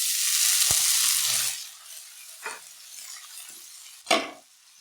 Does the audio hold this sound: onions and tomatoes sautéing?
yes